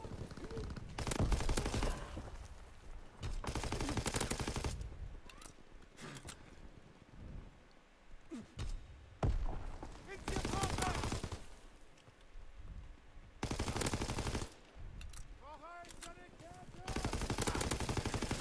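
Call of Duty online match gunfire, long automatic bursts of rapid shots alternating with quieter gaps, close and loud, with a player's voice occasionally audible between volleys.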